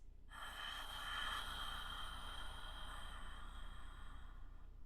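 A long, raspy reverse ujjayi inhale drawn through a constricted throat, steady and close, with a hissing airy texture and no talking.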